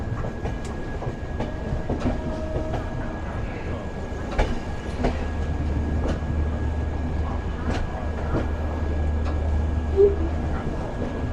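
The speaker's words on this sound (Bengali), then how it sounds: "আমাদের ট্রেন বখতিয়াপুর ছেড়ে এগিয়ে চলেছে তখন পাটনার দিকে" The 12327 Upasana Express runs toward Patna with a steady rumbling roll and repeated clicking wheel beats over rail joints, heard from inside the train at moderate level with no talk.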